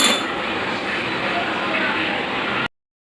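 Food is poured into a bowl at home, a steady dense rush with faint clinks that continues evenly, then stops abruptly.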